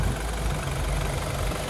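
A car engine idling steadily, a continuous low rumbling drone with no breaks, close and fairly loud with no talk.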